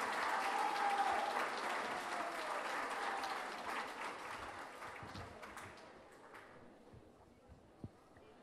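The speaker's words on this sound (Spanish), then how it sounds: "a quien pido de favor un fuerte y caluroso aplauso" An audience at a masterclass event applauds a chef: sustained hearty clapping from a crowd that gradually thins and fades out, ending with a single isolated clap.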